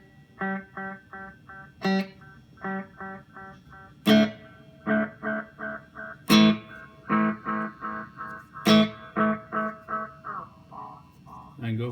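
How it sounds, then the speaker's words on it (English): A single synthesized musical note repeats through a delay effect, each strike followed by a string of evenly spaced echoes that fade out, with sharper accented hits every couple of seconds. The pattern is clean and close, with no voice over it. "I hit the note, and then I've got a delay before the first echo is heard, and then the other echoes play out"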